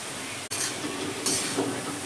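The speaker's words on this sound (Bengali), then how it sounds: "এবার আমি আলুগুলো এর মধ্যে দিয়ে দিলাম" Nota saag greens and potatoes frying in a pan are stirred, a close, steady sizzle with scraping and shuffling textures running throughout.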